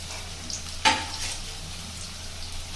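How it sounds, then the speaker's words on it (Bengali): Chopped onions frying in hot oil in a kadai for biryani beresta, a steady close sizzle with one brief sharp clatter near the start, no voices. "প্রথমে আমি কড়াইতে তেলটা গরম হয়ে যাওয়ার পরে পেঁয়াজ দিয়ে দিলাম, কুচি করে কেটে রাখা পেঁয়াজ"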